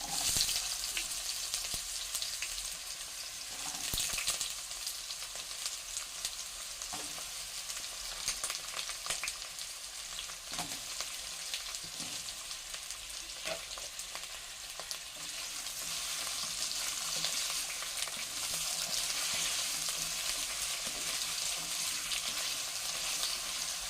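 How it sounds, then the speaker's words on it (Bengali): Potato pieces and cumin fry in a pan with a steady, continuous sizzle that holds at an even level throughout, broken by occasional faint clicks of stirring. "সব কিছু কয়েক সেকেন্ড মতো হালকা ফ্রাই করে নেব। এরপর এর মধ্যে দিয়ে দিচ্ছি কেটে রাখা আলুর টুকরোগুলোকে।"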